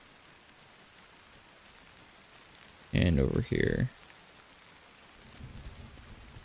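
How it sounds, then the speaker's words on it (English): Steady, soft rain falls in the video game Arma Reforger as a continuous hiss in the background, and someone speaks briefly in the middle. "The occasional thunder makes it pretty atmospheric as well."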